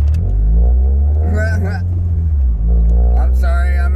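A car engine drones and rumbles steadily from inside the cabin and rises as the car pulls away and speeds up, with someone talking over it.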